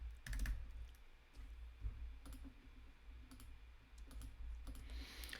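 Quiet typing on a computer keyboard: a few scattered key clicks at uneven intervals over a low hum of room noise, with one cluster of clicks near the start.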